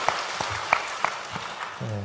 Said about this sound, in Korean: 우리 청소년들을 위해서도 축복의 박수를 보내겠습니다